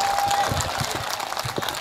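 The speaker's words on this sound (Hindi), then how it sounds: "जरा तालियां बजा के बता दीजिए क्या मूड है" Audience at an All India Mushaira poetry gathering claps in a dense, steady ripple of applause, moderately distant, with a faint voice underneath.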